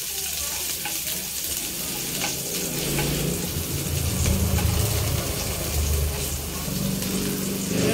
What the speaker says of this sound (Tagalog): Gisa natin yung bawang.